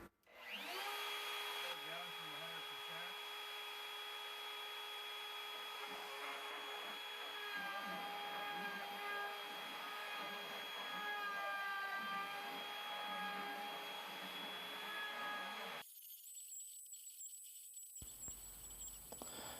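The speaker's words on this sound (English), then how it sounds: "load the G-code, Danny's Corvette, turn on router" A CNC router, running for the first time in six years, whirs steadily as it cuts plywood, a continuous high spindle whine with shifting tones from the cutting, then abruptly changing pitch near the end.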